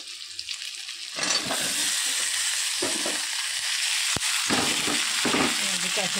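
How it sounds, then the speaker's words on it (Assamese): Cumin and broiler chicken frying in a pan while being stirred, with loud steady sizzling and intermittent scraping strokes of a spoon that carry through most of the clip after a quieter start. "জিকাখিনি মই ভালদৰে লৰাই দিম।"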